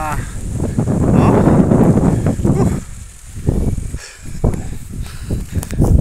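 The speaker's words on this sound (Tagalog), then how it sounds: "Grabe ang hangin, no?" Strong gusting wind on a mountain buffets the microphone in heavy, roaring waves, rising and dipping unevenly, with brief calmer gaps between blasts.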